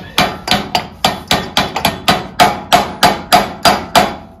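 A hammer drives a bolt through the shaft of a Haban sickle bar mower, about fifteen sharp metallic strikes in a steady, even rhythm, loud and close with no talking.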